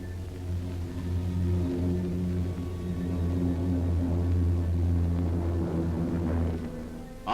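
Droning engine roar of a V-1 flying bomb from archival wartime film, a steady low throbbing hum with layered harmonics that swells slightly and holds loud throughout.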